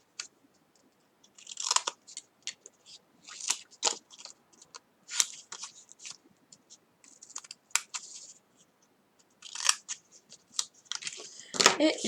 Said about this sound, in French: Ensuite, je prends mes petits ciseaux.